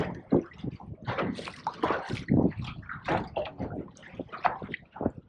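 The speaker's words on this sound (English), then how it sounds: "Just a bit of a confused sea at the moment, just slapping on the hull" Choppy, confused sea water slapping irregularly against a fishing boat's hull, close and uneven bursts of splashing and sloshing with short pauses between hits.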